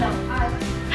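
A voice imitates a dog barking, producing short yipping, bow-wow sounds at a children's birthday party, close and fairly loud over low background noise.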